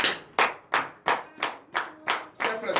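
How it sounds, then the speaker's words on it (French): Congregation at a Monday morning prayer service in Benin clapping in acclamation, eight loud, evenly spaced claps in a steady unison rhythm, close and alone with no talk. "Donnez l'acclamation à Jésus."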